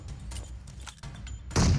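A grenade goes off in PUBG Mobile, a loud broadband burst near the end following game sounds and quieter thumps.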